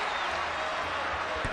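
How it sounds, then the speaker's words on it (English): A basketball arena crowd at a Houston Rockets game roars and cheers in a loud, steady, continuous wash of noise, urging on a player at the free-throw line. "The crowd trying to pump him up."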